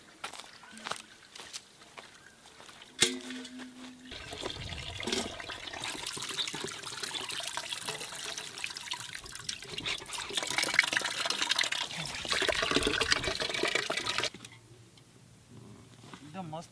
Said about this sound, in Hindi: इसमें थोड़ा वाटर डाल के साफ करेंगे।